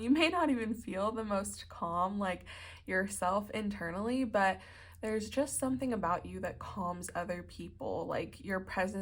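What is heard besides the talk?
None of the usual background noises is heard.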